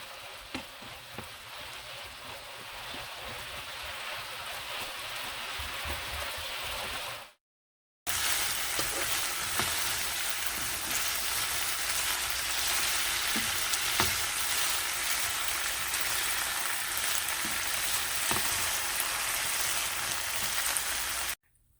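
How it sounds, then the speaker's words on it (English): Steak fries in a hot pan, a loud continuous sizzle and crackle running unbroken apart from a brief silent gap early on. "Once it's hot, we are going to add the steak."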